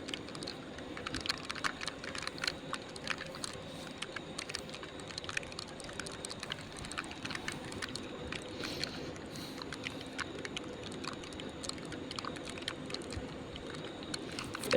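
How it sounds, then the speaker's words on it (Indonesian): Heavy rain on a wet, slippery mountain road between Gladak Perak and Malang via Piket Nol and Dampit, a dense, continuous hiss with crackling patter of drops striking close by, steady throughout with no voices. "Hujan deras banget teman ini ya."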